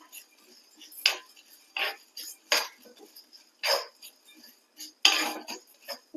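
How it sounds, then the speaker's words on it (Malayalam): Upperi powder mixture being stirred as it roasts in a pan, with a series of separate metallic scrapes and clinks from the spoon against the pan at an irregular pace, close and clear. "അതിന്റെ കൂടെ നിന്നിട്ട് തന്നെ നമുക്ക് ഇങ്ങനെ ഇളക്കി കൊടുക്കാം"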